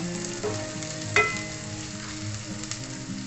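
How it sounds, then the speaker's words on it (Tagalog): Garlic and onion sauté in a hot pan for a Filipino ginataang chicken dish, a steady close sizzle with a few brief stirring scrapes and pops. "Igisa natin ang bawang, at ang sibuyas."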